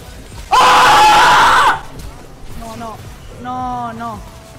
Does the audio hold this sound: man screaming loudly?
yes